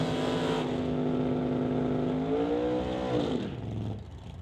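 A 1927 Ford Model T drag racing car at a drag strip, engine holding a steady droning pitch, then climbing and fading as it pulls away; loud and close, no talking.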